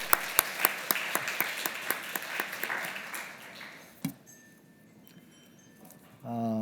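A congregation at a Christmas church service applauds middle and high school handbell players with a burst of brisk, dense clapping that fades after about four seconds into a quiet room, with a voice starting at the end.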